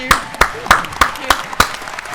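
Six sharp claps in a slow, even rhythm, about three per second, close by and fairly loud, with a faint voice in the background, applauding the Ubisoft E3 2017 conference.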